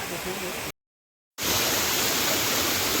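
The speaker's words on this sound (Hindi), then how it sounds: "इस तरफ है मस्त वाटरफॉल" A waterfall near the Bhimashankar temple makes a loud, dense, steady rush of falling water. The sound drops out completely for a moment, then returns just as strong.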